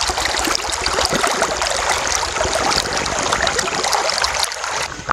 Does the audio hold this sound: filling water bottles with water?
yes